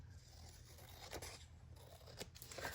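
Paper being trimmed with scissors while assembling a December daily journal, a few quiet crisp snips and scrapes close by, soft and brief.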